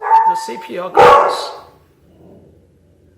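A dog gives one loud, sharp bark indoors, cutting across a man's speech, followed by quieter rustling.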